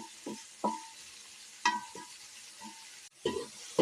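Spice powders and asafoetida fry in hot oil for papaya pickle, a quiet close sizzle broken by several sharp stirring scrapes and clinks of a spoon in the pan.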